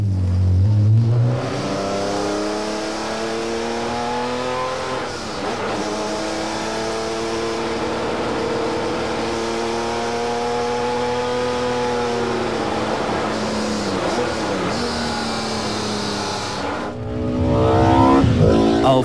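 Opel Omega Evo DTM touring race car, a 380 hp works car, revs hard with loud rising and falling engine tones held steadily for nearly twenty seconds, close and dominant with no talk.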